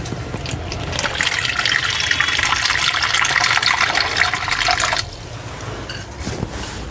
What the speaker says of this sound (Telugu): ఇంకా కొంచెం నీళ్ళు వేద్దాము,